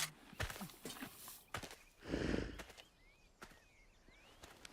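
Horse hooves clip-clop in a short irregular run within an animated story, with a brief whoosh and soft ambient sounds, fairly quiet overall.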